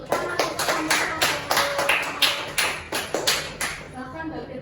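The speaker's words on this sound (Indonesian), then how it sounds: "Jadi tepuk tangan." Classroom applause during an Indonesian microteaching session, a steady patter of many hands clapping close by for several seconds, with faint voices mixed in.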